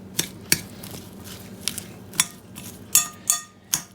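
Spoon stirring ingredients in a pot, a series of sharp metallic clinks and scrapes at an irregular pace, close up with a low background hum and no speech.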